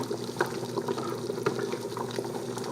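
Broth is poured onto rice with mushrooms and vegetables, giving a soft, continuous liquid splashing and trickle up close.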